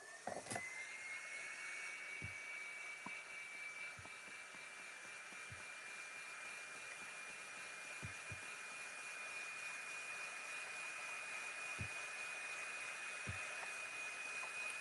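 A hair dryer blows steadily on freshly painted furniture legs, a constant high whine that runs the whole time, with a few faint knocks and taps scattered underneath.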